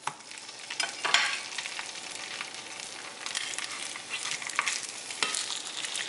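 Fish fillets (triggerfish) laid skin side down in a tablespoon of hot oil over medium-high heat, giving a steady hiss and crackle of frying with no voices.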